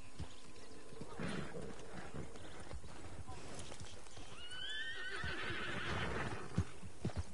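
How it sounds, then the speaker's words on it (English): A Breton horse in the Red Dead Online video game whinnies with rising cries, then hooves clop in a few sharp knocks near the end, all under steady background noise and game ambience. "It's a smaller horse though, but it's the Breton."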